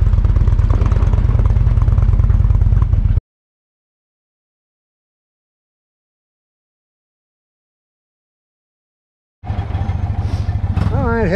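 Motorcycle engine running on an afternoon ride, a loud steady close drone that cuts out to silence midway and then returns with a voice talking over it.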